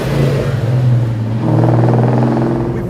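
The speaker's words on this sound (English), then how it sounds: "I'm out driving the car" A classic 1955-57 Chevy drives along a street, its engine humming low and steady from inside the car, then rising as it accelerates, no speech over it.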